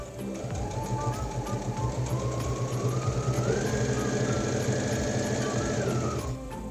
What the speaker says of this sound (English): Sewing is underway.